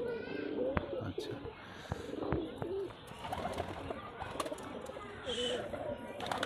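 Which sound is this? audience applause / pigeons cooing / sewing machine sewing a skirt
pigeons cooing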